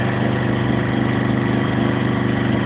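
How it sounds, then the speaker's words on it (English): A portable generator runs close by during a winter power outage, a steady mid-low engine drone with a slight regular pulsing, alone with no voices. "I'm at elbow length again from the generator"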